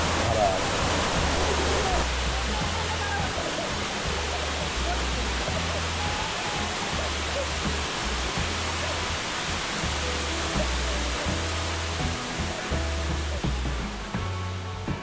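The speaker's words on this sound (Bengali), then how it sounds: "এখান থেকে ওই একটা ধারা দিয়ে জল নামছে ডান দিকে আর এই একটা থেকে নামছে" Water streams cascade down rock at Ayodhya Hills in Purulia, making a steady, broad rushing hiss that stays even and continuous from start to finish.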